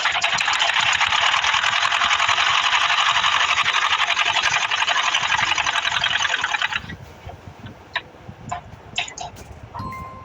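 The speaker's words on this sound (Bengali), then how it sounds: "এই সেলাইটা একটু করে দেই।" A sewing machine stitching a pocket onto a fatua runs steadily and loudly for about seven seconds, then stops, leaving a few faint clicks and handling noises.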